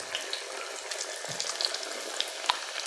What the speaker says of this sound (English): these are just going to fry for a couple minutes on each side.